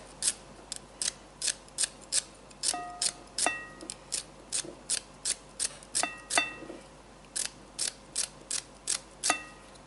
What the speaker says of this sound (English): So just cutting little pieces of celery in there.